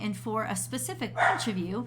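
A dog barks and yips several times in quick succession in the background of a room, its sharp calls mixed with a person speaking steadily over them.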